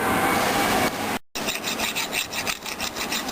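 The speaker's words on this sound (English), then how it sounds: "After crimping, the bars should be removed by using the file." A hand file rasps burrs off a freshly crimped cable lug on an 11 kV termination job, a harsh scraping stroke, a brief gap, then a series of quicker rhythmic file strokes, close and clear.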